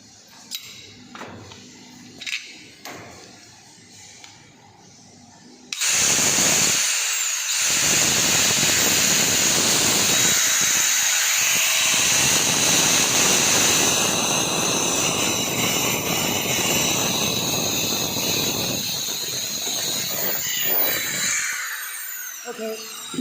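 A 1000-watt Blueshark 115mm angle grinder spins up at no load, a loud, steady high-pitched whine that runs continuously for most of the stretch after quieter handling noises and a brief voice at the start.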